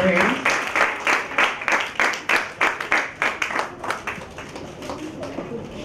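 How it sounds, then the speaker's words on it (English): Audience claps for a student speaker after a talk on electricity, starting with a brief voice, then a rhythmic burst of clapping that gradually thins and fades toward the end. "big round of applause for him"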